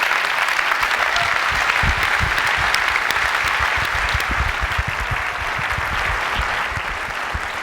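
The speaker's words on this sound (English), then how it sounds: "I'd like to give him a round of applause." Keynote audience at Macworld 2008 applauding as Intel's CEO walks on stage, a large hall full of steady, dense clapping that holds loud and continuous throughout.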